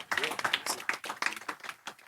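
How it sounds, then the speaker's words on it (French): An audience at a conference stage breaks into brief applause, a quick patter of close, uneven hand claps lasting about two seconds. "sous vos applaudissements"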